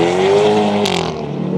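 A Hyundai i30N hot hatch lapping a race track, its engine droning loud and steady from inside the cabin, pitch holding then shifting slightly as it drives on.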